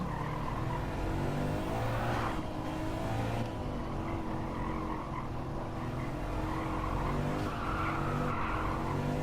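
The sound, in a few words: Subaru WRX drifting, tires skidding, in video game Gran Turismo 7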